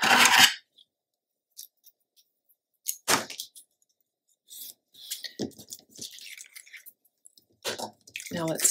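Paper being hand-trimmed for a mini album, with sparse crisp snips and rustles separated by silences, close and fairly quiet.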